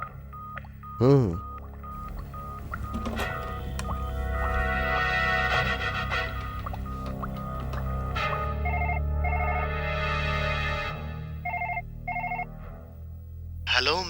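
A phone being dialed: a burst of tones, then a repeating ringback tone sounds over several seconds, with a brief murmur from a man.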